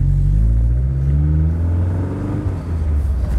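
Classic Healey sports car engine revving with a loud, steady low rumble that swells and holds close by throughout, with no talk over it.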